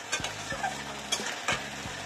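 Tangra catfish, full of roe, fried in hot oil for a Bengali curry, giving a soft steady sizzle broken by a few sharp scraping clicks as the pieces are stirred in the pan, close and fairly quiet, with no talking.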